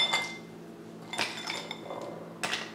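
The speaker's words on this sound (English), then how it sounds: "The last thing that I'm always going to add is my ice." Ice cubes dropped into a cocktail mixing glass, three separate bright clattering clinks spaced about a second apart, close and fairly quiet.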